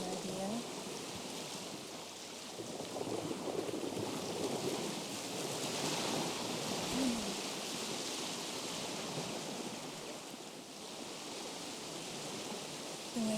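Ocean waves wash onto a beach in a broad, steady surf roar, rising and easing gently over several seconds without clear separate breaks, no speech.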